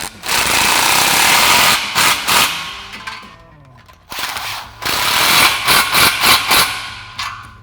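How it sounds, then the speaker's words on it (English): Rapid, loud ratcheting bursts from an impact tool tightening exhaust clamps with a 15mm socket on a Dodge Challenger's Pypes Violator cat-back exhaust, several runs separated by a brief pause, close up. "Now we can tighten both of these down with a 15mm socket."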